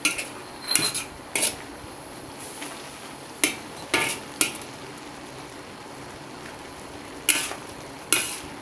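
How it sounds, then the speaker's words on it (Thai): A spoon mashes and mixes pork spleen in a pot for a spicy Isan stew, giving sharp scraping clinks in short, irregular bursts separated by quiet pauses. "เวลาหยำม่านเนี่ยมันดีดังกุดกุดกุดแซ่บดี"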